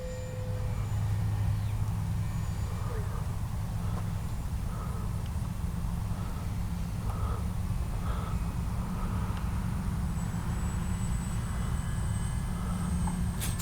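A Kavan Bristell B-23 radio-controlled model aircraft flies through the evening sky, its engine a steady, continuous drone that holds at a moderate distance for the whole stretch, with no voices.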